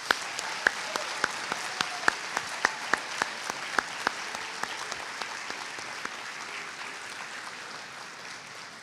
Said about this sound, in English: Ladies and gentlemen, a big round of applause for the class of 2026.